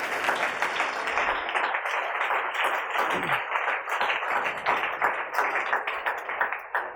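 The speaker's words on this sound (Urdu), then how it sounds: "زوردار تالیاں پربھو یسوع کے لیے دیں۔" A church congregation applauds loudly during a Resurrection Day service, dense sustained clapping from many hands that stays steady and full for several seconds.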